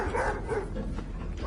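A dog barks indoors, with short muffled yaps and a whimpering edge over a dull, rumbling background, fairly quiet and a little distant.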